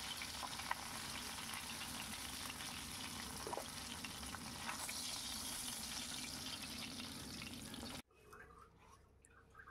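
Parshe fish frying in oil in a kadai, a steady dense sizzle and crackle filling the scene close up before cutting abruptly near the end to a quieter kitchen.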